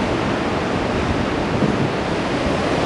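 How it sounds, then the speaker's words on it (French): Ocean surf breaks at the Anglet surf spot on a November morning, a broad, steady wash of waves mixed with wind rumble on the microphone, with no voices. "Il y a quand même des vagues assez sympas qui passent avec un peu plus d'eau"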